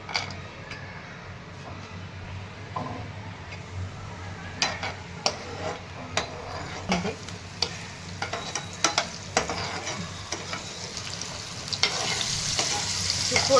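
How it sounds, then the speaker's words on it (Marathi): Semolina roasting in a pan for a banana sheera, stirred with a spoon: soft steady sizzle with repeated scraping and tapping strokes against the pan, fairly quiet and close. "रवा पण छान भाजून घेत आहे"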